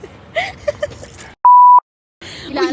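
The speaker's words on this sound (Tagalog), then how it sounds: "At tinagyan mong beep." A single pure censor beep, a steady electronic tone of about a third of a second, sits between snippets of talk and cuts off cleanly, loud against near silence.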